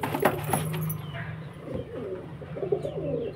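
Pigeons coo in a market stall where running-pair and Kaldoma pigeons are on sale, soft repeated rolling coos at close range over steady background noise.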